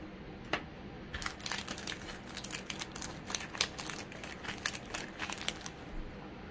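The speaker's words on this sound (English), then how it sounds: "I shuffle them up like they mean anything." Pokemon trading cards get shuffled by hand, a rapid series of soft crisp riffling snaps and flicks repeating over several seconds, close but fairly quiet against a faint background hiss.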